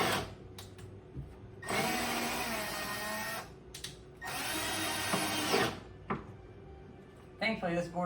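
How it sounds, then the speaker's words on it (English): A power drill bores into a long oak board during bookshelf building, running in two sustained bursts with brief blips between, close and fairly loud, followed by a few clattering handling sounds at the end. "this board is long enough that it's not going to split it if I drill into it"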